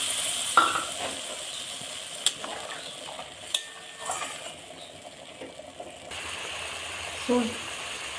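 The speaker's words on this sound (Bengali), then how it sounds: "পোস্ত সরষা ফুটছে" Poppy seed, mustard and green chilli paste bubbles and sizzles softly in a pan for tilapia fish curry, with faint scattered pops and scrapes of stirring, low and close throughout.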